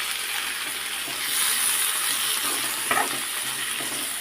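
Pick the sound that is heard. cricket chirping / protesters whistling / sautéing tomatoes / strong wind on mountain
sautéing tomatoes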